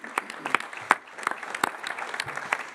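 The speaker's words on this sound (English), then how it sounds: "how about a round of applause for Miami?" An audience at a college football playoff national championship news conference applauds for Miami, a steady patter of clapping from a moderate-sized crowd, fairly close and without talk.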